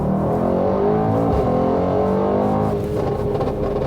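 A Mercedes-AMG GT 63 4-door engine, tuned past 700 hp, roars under full throttle from about 4,000 rpm and climbs steadily in pitch as it accelerates. The sound is loud and close, with no talking.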